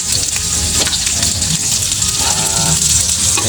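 Onions going into a hot pan of garlic for ginisang monggo, a steady loud sizzle and hiss of frying that runs without a break.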